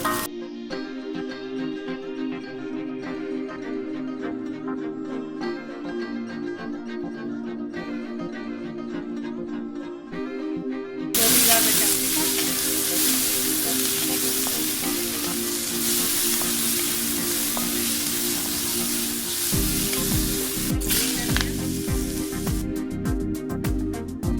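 Vegetables stir-fried for Chinese fried rice, a steady crackling sizzle close up that turns louder and denser halfway through, with brief stirring scrapes near the end.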